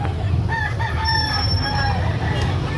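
Gamefowl rooster, a tall derby-size cock at a market, crows amid a dense, noisy background, with other birds and low rumbling throughout.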